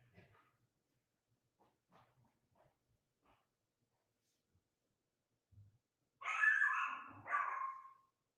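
After several seconds of near silence with faint soft knocks, a dog lets out two loud barks close by, back to back.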